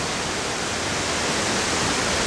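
A waterfall in Nainital roars as a dense, steady hiss of rushing water, loud and close, unbroken throughout with no voices.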